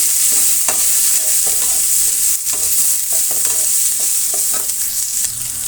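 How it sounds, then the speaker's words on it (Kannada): Cut dried red chillies and curry leaves crackle loudly in hot oil, cooking in a large pot of horse gram and greens sambar for twenty people, stirred with frequent scraping clatters against the pan and no voices. "ಸ್ವಲ್ಪ ಕರಿಬೇವಿನ ಸೊಪ್ಪನ್ನು ಸೇರಿಸ್ತಾ ಇದ್ದೀನಿ. ಇಷ್ಟು ಫ್ರೈ ಆಗಲಿ."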